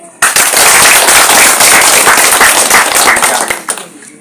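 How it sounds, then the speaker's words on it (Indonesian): Loud, sustained audience applause from a crowd at a Tanimbar Baru community meeting, dense crackling claps running about three and a half seconds before tapering off. "Mari kita berikan aplaus."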